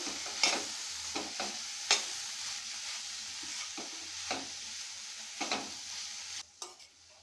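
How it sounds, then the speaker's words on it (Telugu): Cabbage curry is stirred in a pan after salt is added, with a spoon or spatula scraping in irregular strokes over a quiet, soft sizzle, close and fairly faint, with no voices. "రుచికి తగినంత ఉప్పు వేసాక ఇలా కలుపుకుందాం, క్యాబేజీకి పట్టేటట్టు."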